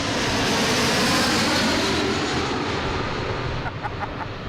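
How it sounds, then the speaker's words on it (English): An American Airlines Embraer E175 jet landing at Boston Logan roars loudly and close, a broad sustained engine rush that eases slightly toward the end. "That's American Airlines coming in from Rochester, E175."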